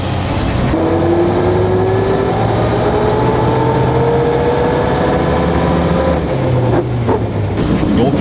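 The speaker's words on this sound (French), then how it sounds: "Peugeot 156. Donc il est équipé d'un moteur de 6 litres de cylindrée" A Peugeot 156 car's 6-litre valveless engine runs steadily and loud, a continuous droning hum with slowly shifting tones throughout.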